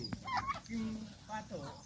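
A turkey makes brief clucking and warbling calls at close range, faint and broken, mixed with scattered low handling noise.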